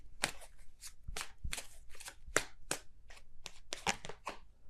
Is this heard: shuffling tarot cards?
yes